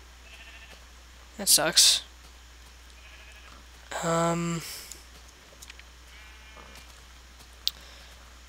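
Sheep bleating in the Minecraft Tekkit video game: a couple of short bleats, loud and close, set between spoken comments from a player.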